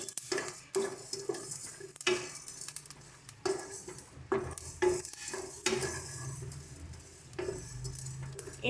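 A utensil stirs and scrapes cumin and coriander as they dry-roast in a pan, with repeated sharp scraping strokes and clinks in an irregular rhythm over a faint crackle, close and fairly quiet.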